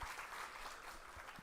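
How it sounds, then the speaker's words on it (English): Audience applause at a university MBA and MCA orientation day, a steady wash of clapping from a seated crowd held at an even, moderate level for the whole stretch with no talk over it. "I would like to give some good applause to your seniors for sharing their experiences"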